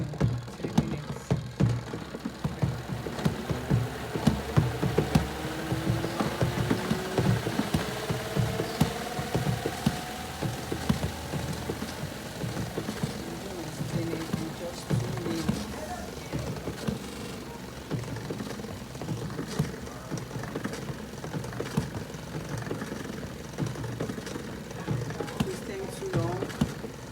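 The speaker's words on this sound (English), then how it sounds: "And then you see I want to do my spinning." An LG manual top-loading washing machine runs its spin cycle, giving a steady, continuous whirring rumble with a faint rising whine.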